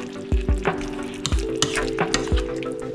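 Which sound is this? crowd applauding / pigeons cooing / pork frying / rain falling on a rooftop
pork frying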